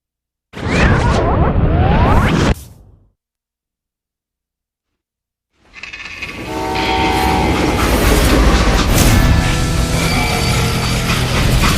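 A train from the Western video game Call of Juarez Gunslinger rumbles past, starting with a short loud burst, then dropping into silence, then returning as a sustained roaring clatter of rolling wagons with a horn-like tone, steady and close.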